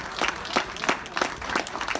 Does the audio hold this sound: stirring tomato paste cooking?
no